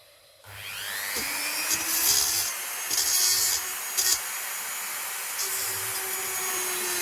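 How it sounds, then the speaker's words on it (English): A power drill whirs steadily at close range, drilling out a snapped screw in a stained glass box, revving up at the start and grinding in short, louder bursts as it bites. "I'll try drilling that out."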